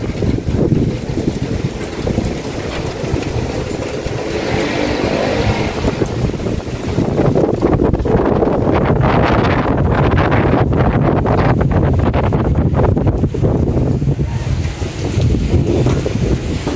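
Strong stormy wind roars in a continuous loud blast that swells about halfway through, buffeting close by with a rain-like hiss and gusts.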